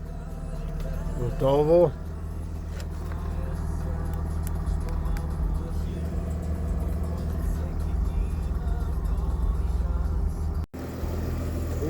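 A Mercedes-Benz W221 S-Class in park cranks briefly and starts, then settles into a steady low idle. Someone speaks over the running engine, and near the end a short click cuts in.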